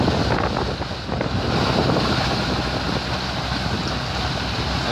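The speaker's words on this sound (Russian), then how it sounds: "Это воды, волны его догоняют сзади." A boat's stern wave rolls up from behind at sea, heard as continuous wind-buffeted water rush and surf against the hull, loud and steady with wind noise on the microphone and no talking.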